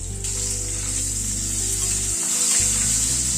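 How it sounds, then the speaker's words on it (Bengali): Boiled potatoes fry in a pan with salt and turmeric, giving a loud, steady close sizzle with a continuous hiss and no voices. "নুন হলুদ দিয়ে আলুটাকে আগে একটু ভেজে তুলে নিচ্ছি"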